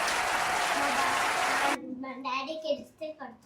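A dense burst of hand clapping from a family group at a home food challenge, lasting under two seconds and stopping abruptly, followed by someone talking.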